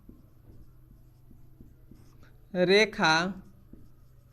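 A pen writes on paper during a Class 9 maths lesson, giving faint, regular scratching ticks, briefly covered by a spoken word.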